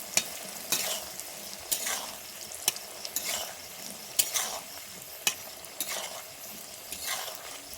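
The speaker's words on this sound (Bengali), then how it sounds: "আমার কি সুন্দর ক্রিস্পিভাবে ভাজা হয়েছে" Chickpeas deep-frying all at once in plenty of oil, a continuous bright sizzle broken by regular scraping stirs of a spatula every second or so, close and alone without talk.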